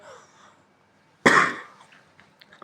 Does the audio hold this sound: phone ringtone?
no